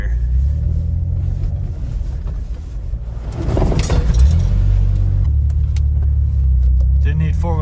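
A vehicle drives through a deep water crossing, its engine a loud, steady low rumble throughout, with a surge of splashing and churning water in the middle as it pushes through.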